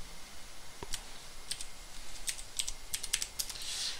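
Keys on a computer keyboard clack in quick, uneven bursts as a short command is typed into a terminal. Close, crisp taps sit over a quiet background hiss, with no voice.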